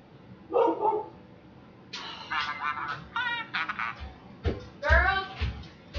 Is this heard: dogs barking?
yes